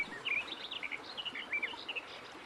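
Several birds chirp and tweet in a forest tree in an animated story, a run of quick, bright calls repeating one after another at close range with no talking.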